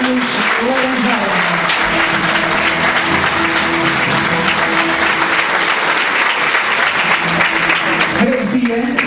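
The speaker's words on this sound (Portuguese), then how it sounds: "Aplausos para Carlos Laranjeira." Loud, continuous applause from a large crowd at a political party lunch, with voices and music-like tones running underneath throughout.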